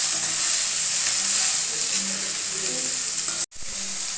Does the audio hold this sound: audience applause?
no